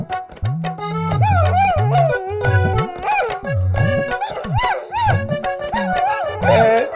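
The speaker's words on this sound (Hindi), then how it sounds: "कुत्ता इतने जोर जोर से क्यों रो रहा है?" A dog howls and wails loudly in long, rising and falling cries, repeated continuously over several seconds.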